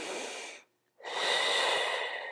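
A person exhales audibly while sliding one leg back in during a core exercise, a close, airy breath that stops after about half a second, followed by a longer, steady rush of breath.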